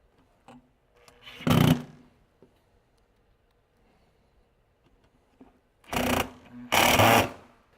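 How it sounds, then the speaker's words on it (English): A power drill drives 2 1/2-inch screws into pilot holes for a SmartFit Yoke ceiling installation, with three short loud whirring bursts separated by a long pause and faint handling clicks. "Using 2 1/2-inch screws, screw them into the pilot holes."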